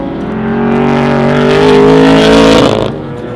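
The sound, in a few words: 1957 Chevrolet Corvette racer engine with loud 3-inch exhaust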